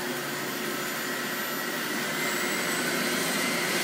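Motor of a juicer turned up to a higher speed while juicing strawberries, a steady loud whirring drone that swells slightly toward the end, close by with no talking.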